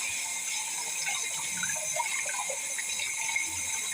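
Cold water runs steadily from a tap into a pot in a home kitchen, a continuous moderate gush with faint clinks and no talking.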